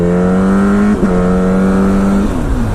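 An AMA Pro Racing Yamaha R1 race bike drones loudly and close at high revs, its tone breaking with a sharp blip at each of two downshifts.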